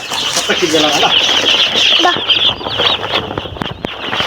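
Hens and young chicks on a farm, busy clucking and high peeping that runs almost continuously, loud and close, with people talking over it.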